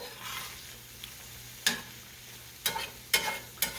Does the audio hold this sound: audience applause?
no